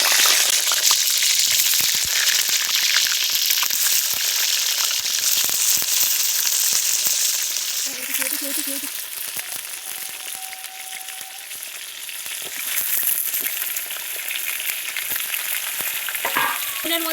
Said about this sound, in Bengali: তেলটা আমার গরম হয়ে গেছে, এবারে বেগুনগুলো দিয়ে দেবো।